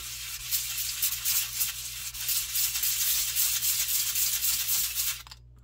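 A thin piece of wood held in a small sanding block is rubbed back and forth against sandpaper, giving steady close-up scratchy strokes that run for about five seconds before stopping abruptly.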